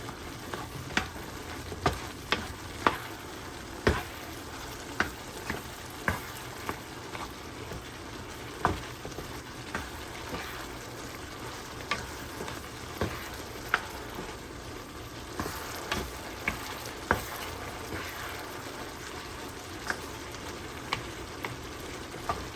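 Eggplant and ground meat fry in a pan with turmeric, thyme and chili pepper, a steady soft sizzle broken by regular sharp clacks of stirring spoon against the pan, no voices.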